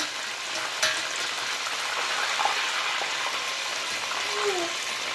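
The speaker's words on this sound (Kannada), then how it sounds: "ನೋಡಿ, ನೋಡಿ ಎಷ್ಟು ಚೆನ್ನಾಗಿ ಎಲ್ಲ ಡೀಪ್ ಫ್ರೈ ಆಗ್ತಿದೆ ಅಂತ ಹೇಳಿ." Batter-coated mushrooms deep frying in hot oil, giving a steady, dense crackling sizzle throughout with a few faint clinks, fairly close and without any talking.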